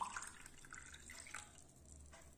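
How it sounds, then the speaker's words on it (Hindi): Water poured into a glass in a kitchen, a soft continuous trickle and splash close by, fairly faint and without talking. "एक गिलास में हम पानी डाल देंगे।"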